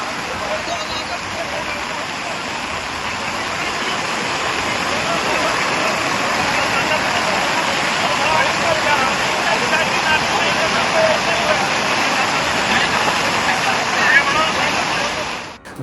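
A flooded river rushes beside Santala Devi temple in Dehradun during heavy rain, a loud, steady roar of churning water that fills the whole stretch without a break, with no voices over it.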